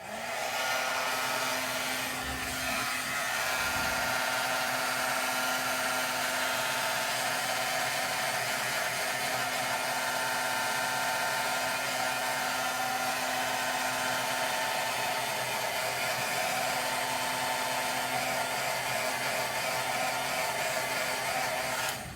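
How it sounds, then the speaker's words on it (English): A heat tool blows steadily over a wet watercolor card for about twenty seconds, a constant close whirring hiss with only slight variation and no talking. "So I'm going to hit it with the heat tool."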